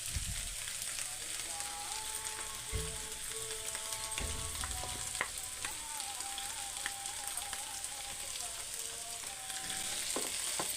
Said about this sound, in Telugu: కలుపుకుందాం మంచిగా కలిసేటట్టు.